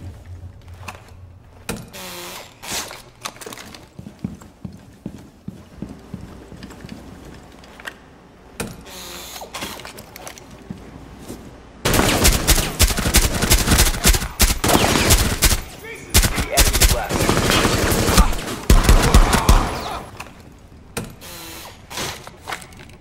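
Bursts of rapid automatic gunfire from enemies in the Rainbow Six Siege video game, loud and dense, with sporadic shots early on before heavy sustained fire breaks out midway and continues in waves.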